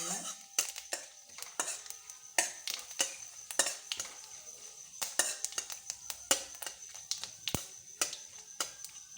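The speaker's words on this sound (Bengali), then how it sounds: "তেলটা আমার গরম হয়ে গেছে। আমি একটা শুকনো লঙ্কা, একটা তেজপাতা, 1 চামচ 5 ফোড়ন দিয়ে দিলাম" Dry red chilli, a bay leaf and a spoon of five-spice seeds in hot oil for Bengali olive pickle, soft sizzling broken by frequent sharp clinks and scrapes of a spoon against the pan, fairly quiet and close.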